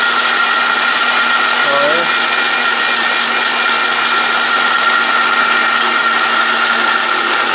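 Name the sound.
electric blender grinding ginger and garlic into paste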